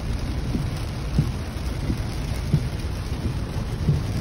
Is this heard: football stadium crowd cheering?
no